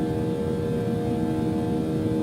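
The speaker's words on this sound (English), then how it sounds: "Quiet behind the engines, that's quite realistic" Boeing 757-200 jet engines in the X-Plane 12 flight simulator, heard from behind: a steady, muted drone with a low rumble and faint tonal hum, unchanging throughout and without voices.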